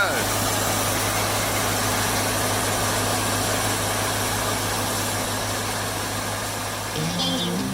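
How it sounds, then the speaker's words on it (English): A diesel-powered machine runs steadily at close range, a constant low engine drone with a humming tone, unbroken throughout and changing slightly at the end. "this is diesel powered, and from my experience of diesel powered kit, yeah, it's powerful"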